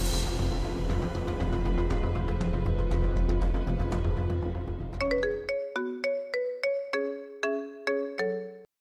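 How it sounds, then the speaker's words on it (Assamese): A phone rings with an incoming call. A loud, dense burst gives way to a bright melodic ringtone of evenly spaced chiming notes that repeat clearly and alone. "ফোন কৰি আছো, ৰিচিভ কৰা নাই যে, কিয়?"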